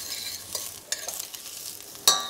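Sweet Cévennes onion frying in oil in a pan, with a steady crackling sizzle broken by a few louder sharp pops as it is stirred.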